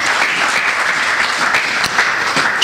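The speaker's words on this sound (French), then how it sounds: "Est-ce qu'on peut acclamer pour la parole de Dieu?" A church congregation bursts into steady applause and clapping, loud and close, sustained through the whole moment without a break.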